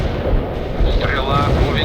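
Anti-tank strike explosions in the video game World in Conflict thud and rumble loudly and continuously, with a radio-style voice talking over the barrage.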